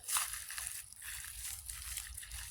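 Footsteps crunching on dry ground, a series of soft rustling crunches at a walking pace, fairly quiet and close.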